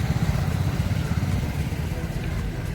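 A motorcycle engine rumbles loudly and close with a rapid, throbbing low pulse, heard during preparations for a village fair.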